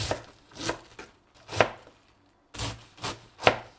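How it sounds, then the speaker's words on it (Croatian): Cabbage being chopped into small cubes for Moscow borscht, a knife striking a board in close, crisp cuts, about seven strokes with a short pause partway. "kupus mi sjeckamo na sitne kockice"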